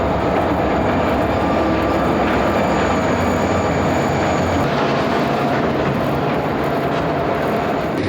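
A westbound train rumbles past close by in a steady, loud roar of wheels and cars, with a faint high squeal threaded through the noise.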